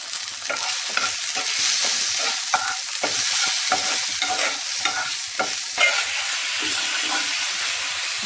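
Spice paste of turmeric powder and ginger paste being sautéed in a pan for a curd fish dish, with steady sizzling and repeated scraping stirs throughout, close and continuous with no talking.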